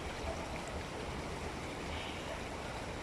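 Hacı Ahmet stream in Balçova, swollen after heavy rain, rushes as a dense, even roar that never lets up, loud and close with no voices.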